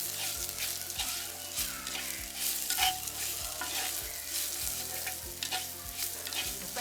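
Drumstick curry frying in a pan while being stirred, a steady loud sizzle with regular scraping strokes of the spoon against the pan, no talking.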